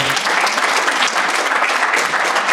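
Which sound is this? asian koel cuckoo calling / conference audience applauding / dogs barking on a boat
conference audience applauding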